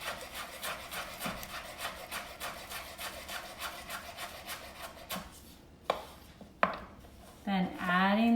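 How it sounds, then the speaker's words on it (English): A knife chops fresh cilantro tops on a cutting board in a steady, rapid run of crisp strokes for several seconds, then a few sharp isolated knocks before a voice briefly speaks. "We're gonna cut off those tops."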